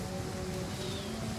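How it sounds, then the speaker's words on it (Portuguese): Rain falls in the Total War: Pharaoh video game as a steady, quiet hiss of drops with a faint low rumble beneath, continuous and without talking. "Talvez seja melhor esperar acabar a chuva."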